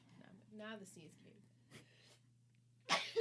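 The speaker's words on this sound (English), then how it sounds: "Now the sneeze" A sudden loud sneeze bursts out right after brief talk on a podcast, close to the microphone.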